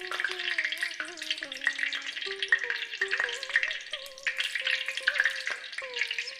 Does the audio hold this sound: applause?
no